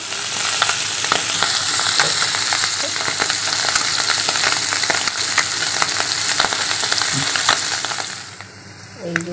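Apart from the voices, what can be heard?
mourola fish frying in a pan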